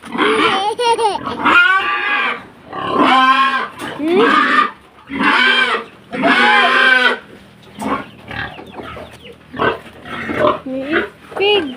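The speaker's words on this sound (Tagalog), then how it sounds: "May pig." A pig gives loud, close, drawn-out grunts and squeals in a series of separate calls at feeding time, with a person talking between and over them.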